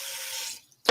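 A short splash of water is poured into a pan of vegan gravy, a brief hissing stream that stops, then a sharp little clink at the end.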